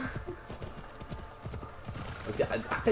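Horse hooves clip-clop in a steady rhythm with whinnies and neighs rising near the end, from the video game Assassin's Creed Odyssey, with faint talk underneath.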